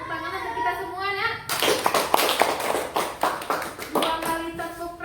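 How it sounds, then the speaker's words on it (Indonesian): Children in a classroom clap together in a quick burst of rhythmic claps, close and fairly loud, with a voice and some child speech heard before and after. "Tepuk tangan untuk kita semua, Nak."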